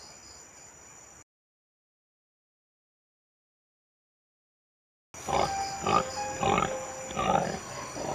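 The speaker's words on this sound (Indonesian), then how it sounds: "Itu babinya lewat." Grunting of a cartoon pig, a were-boar in an Indonesian horror cartoon, comes in several short close bursts after a stretch of silence, over a steady high background tone.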